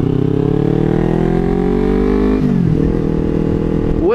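A motorcycle fitted with a new aftermarket exhaust, quieter than the GP exhaust it replaced, runs steadily and loud up close, its engine note rising, then dipping briefly before climbing again.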